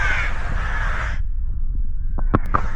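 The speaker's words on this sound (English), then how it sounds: "I really hope the birds aren't taking the spotlight" A crow caws loudly near the Rhine River at Emmerich, Germany, a single drawn-out call followed by a few brief clicks over steady low outdoor rumble.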